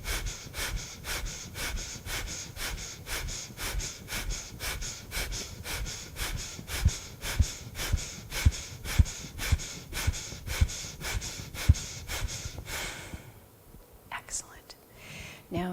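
Rapid rhythmic pumping breaths from the Breath of Joy breathing exercise, a long steady run of quick, evenly spaced sharp inhales and exhales, close and loud, ending in a brief pause with softer breaths.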